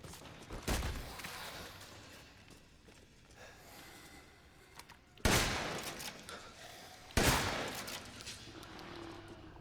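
Shotgun blasts in the video game Resident Evil Village: a few sharp, separate booms spaced seconds apart over quiet in-game ambience, each with a short ringing tail.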